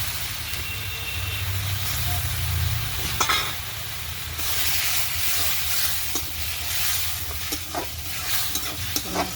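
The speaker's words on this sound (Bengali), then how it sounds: "এখন আমি মাছটি কষাই নিই" Shing fish frying in a pan with radish, potato, eggplant, salt, chili and spices, a steady close sizzle with occasional scraping stirs throughout, no voices.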